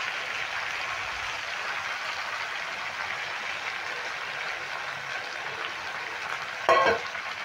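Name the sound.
whisked yogurt added to a frying cauliflower roast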